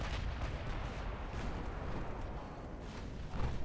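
Naval gunfire in Ultimate Admiral Dreadnoughts, heavy cruiser guns booming in a dense continuous rumble of distant salvos and explosions, with no talking.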